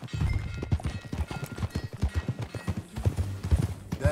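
Horse hooves clip-clopping in an uneven trot with a short whinny, from the video game Red Dead Redemption 2, close and clear with no talking.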